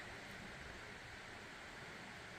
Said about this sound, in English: Get to listen to the sounds of the river.